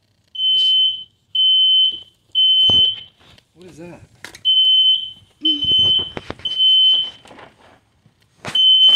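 A smoke alarm in a garage sounds in loud repeated piercing beeps, each lasting about a second with short gaps between, while a person asks a brief question and light handling noises fill the pauses.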